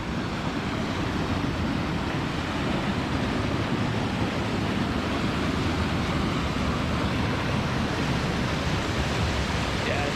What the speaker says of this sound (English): Wow, the roar from this waterfall is so cool.